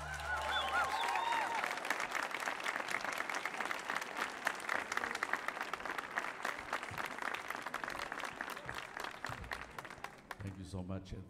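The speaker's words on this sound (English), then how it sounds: "thanks for the dancers for clapping and stomping and singing along too" A crowd at a mariachi show on the Millennium Stage breaks into loud sustained applause after a song, dense hand clapping with scattered cheers, fading near the end as voices begin talking.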